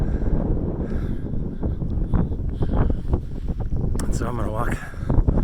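Wind gusting across the exposed hilltop at Knowth, an ancient passage-tomb site, roaring steadily into the microphone throughout, with someone talking over it.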